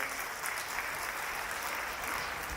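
Faint, continuous applause rises from an audience at a Mahavir Jayanti poetry recital of Jain verse, the clapping a thin, even wash heard at a distance with no voices over it.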